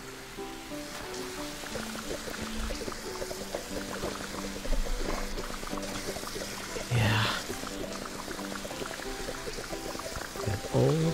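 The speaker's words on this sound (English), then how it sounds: "Get all of the water out of the stream." Water pours and gurgles as a stream is drained in a nature-cleaning simulator game, with rushing, splashing bursts under scattered game sounds and a person speaking briefly.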